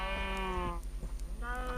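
Sheep in a Minecraft-style game bleat twice, loud close wavering calls separated by a short pause, over steady low game background.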